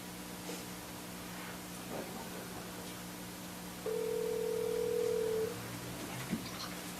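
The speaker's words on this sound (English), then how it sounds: "I'm going to call you on my cell phone." During a cell phone call into a planning commission meeting, a single steady ringing tone sounds for under two seconds over a faint background hiss.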